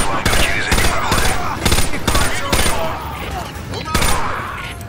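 A FAMAS rifle fires in Call of Duty Modern Warfare 2 Remastered in repeated sharp bursts of a few rounds each, separated by short gaps. The shots are loud and close over faint background game noise.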